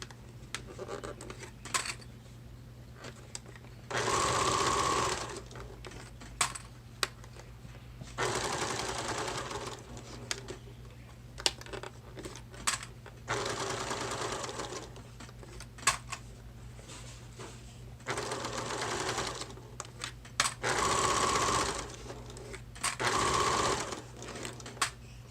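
A sewing machine stitches the curved seams of a clutch bag in several separate bursts of steady mechanical whirring, near and fairly loud, with short pauses and small handling sounds between runs.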